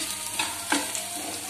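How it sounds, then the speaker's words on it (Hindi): Onions frying in a pan for masala Maggi noodles, a close, soft sizzle with a few scraping stirs of a spoon against the pan, brief and steady. "तो अच्छी तरह से प्याज को हम अच्छी तरह से भून लेंगे।"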